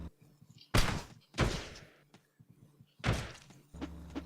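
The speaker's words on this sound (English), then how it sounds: "Let's use some grenades for these dudes." Grenades explode in the video game Teleglitch, three sharp, punchy booms in quick succession with brief decaying tails, amid quieter electronic game sounds.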